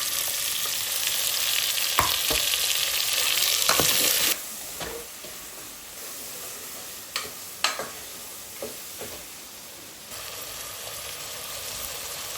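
Ghee sizzles steadily in a pan with ginger, garlic and green chilli for a village-style Kerala chicken curry, loud and continuous, with a few sharp stirring clicks and scrapes over the frying.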